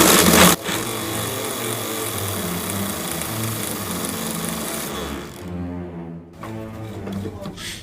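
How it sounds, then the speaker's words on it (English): A homemade bench grinder built from a sewing machine motor sands the edges of a wheel, making a loud, steady whining hum. It cuts out briefly near the end, then spins back up. "Then I'll put it on the motor itself and then sand off the edges."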